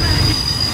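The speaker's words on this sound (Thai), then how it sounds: "ขบวนรถธรรมดา 251ต้นทางธนบุรีปลายทาง ประจวบคีรีขันธ์เข้าจอดที่สถานีรถไฟศาลายา" Ordinary passenger train 251 from Thonburi to Prachuap Khiri Khan pulls into Salaya railway station, its wheels squealing loudly on the rails as a sustained high-pitched whine over low rumbling, with no talking.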